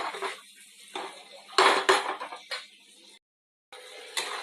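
A lid set over a cooking pot of spices and tomatoes to soften them; a few close metallic clanks and rattles of cookware, a louder clatter in the middle, then a brief silence before another clink.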